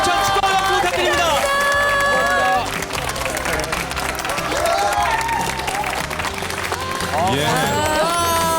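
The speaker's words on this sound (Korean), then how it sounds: "여러분 다시 한번 힘찬 축하 박수 부탁드립니다" An audience at a televised Korean vocational high school recruitment show bursts into congratulatory applause with cheers, loud at first, then dipping slightly and continuing as clapping mixed with shouts.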